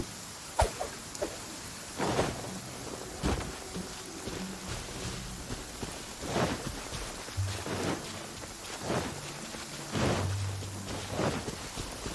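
Steady rain falls in Genshin Impact, a broadband hiss with scattered louder patter bursts and low rumbles, no voices.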